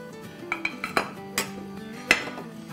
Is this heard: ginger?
yes